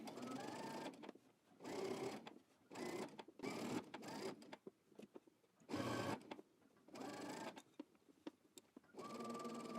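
A sewing machine stitches a flat fell seam on a Simplicity S9554 garment in several short bursts of whirring, separated by quiet pauses, fairly faint and close.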